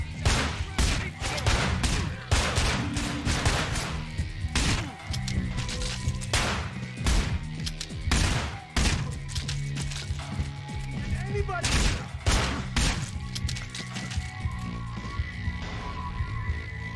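Pistol shots crack out in the video game Manhunt, loud sharp reports fired in irregular bursts among other combat noise, with a voice talking at points.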